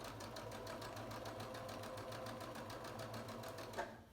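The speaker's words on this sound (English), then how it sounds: "Watch when you sew over pins so you don't break your sewing needle." A sewing machine stitches a quilt block seam with a fast, steady mechanical whir and rhythmic needle ticking, close up, stopping abruptly near the end.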